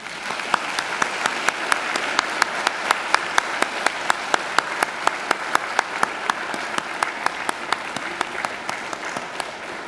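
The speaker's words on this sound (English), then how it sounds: "give them a mighty round of applause" Sustained applause from a graduation ceremony audience in a large hall, dense steady clapping with sharp individual claps standing out, continuous for about ten seconds without speech.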